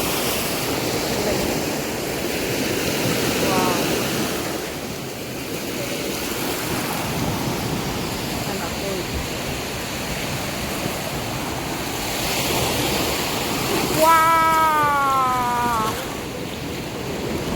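Ocean waves wash steadily onto Varkala beach, a continuous broad surf roar with wind rumble on the microphone, close and loud, and a faint whistling tone rising near the end, with no talk.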